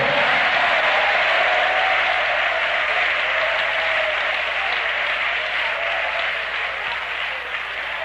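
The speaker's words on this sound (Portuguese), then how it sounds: "batem palmas e glorifiquem ao Senhor" Worshippers in a Portuguese-language church service clap their hands in praise, a loud, sustained crowd applause that continues evenly for about eight seconds and tapers a little at the end.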